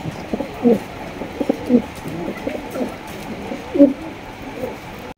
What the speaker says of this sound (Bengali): এখানে রয়েছে একজোড়া হাই কোয়ালিটির রেড কালারের ডেনিশ কবুতর